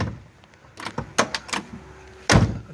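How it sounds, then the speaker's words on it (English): The sagging left door of a 1969 Chevelle SS clicks and creaks open with a few mechanical clunks, then shuts with a solid thud, close by and otherwise quiet. "A little bit of door sag on the left door as it opens"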